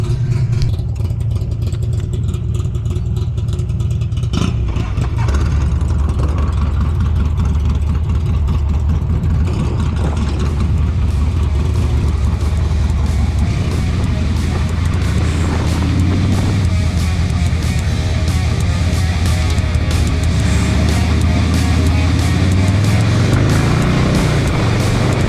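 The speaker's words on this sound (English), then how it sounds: "Something sounds really weird on my bike, but not good weird." A motorcycle engine roars loud and steady while riding toward Bike Week in Ormond Beach, with wind rush and rising and falling revs throughout and no voices.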